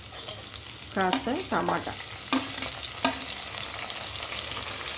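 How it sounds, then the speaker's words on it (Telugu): Onions and green chillies fry in a pan for veg pulao, a steady low sizzle broken by a few sharp stirring scrapes, with a brief spoken remark in the middle. "ఆనియన్స్, పచ్చిమిర్చి కాస్త వేగనిద్దాము."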